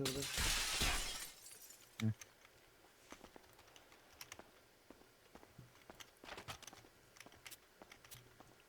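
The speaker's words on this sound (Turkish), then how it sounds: "Bir saniye. Camları kırın camları." Glass windows smashed in a video game during a market robbery: one loud, sharp shatter bursts out at the start, then scattered faint clicks and taps follow.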